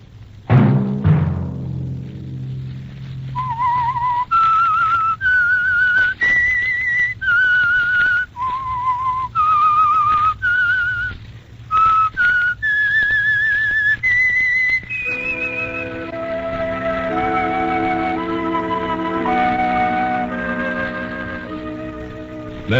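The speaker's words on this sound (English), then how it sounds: "Let that whistle be your signal for the Whistler." The signature theme whistle of the old-time radio show The Whistler: a lone human whistle carries a slow, eerie melody of held notes, then an orchestral passage takes over, all under a low hiss.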